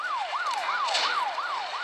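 A police car siren in the video game Smashy Road: Arena wails in rapid rising-and-falling yelps, loud and continuous over a steady engine hum, with no one speaking.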